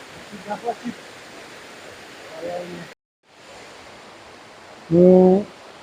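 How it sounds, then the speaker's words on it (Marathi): Steady broadband rush of a waterfall on a forest stream fills the background at moderate level, while someone speaks briefly over it. "इथं खाली दुसरा धबधबा आहे"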